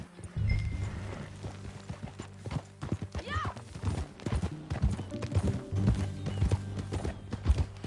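Hooves clip-clop in a steady rhythm in a video game, with a horse's whinny and snorts, under the game soundtrack and occasional voices.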